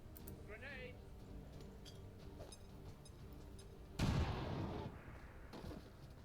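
A grenade goes off in XCOM Long War as one sudden, loud, broadband blast that fades over about a second. Someone talks quietly before it.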